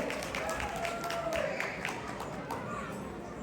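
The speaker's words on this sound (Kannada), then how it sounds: "ಬನ್ನಿ ಜೋರ ಚಪ್ಪಾಳೆ ನಮ್ಮ ವೀರ ಧೀರ ಮಹಿಳೆಯರಿಗೆ" A crowd at a children's fashion show during an Ugadi festival celebration applauds with a steady patter of handclaps, mixed with murmuring voices and general hall noise.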